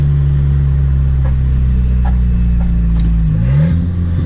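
Volvo 740 engine pulling hard under full throttle in second gear, a loud, steady close-up drone whose pitch holds and then shifts near the end.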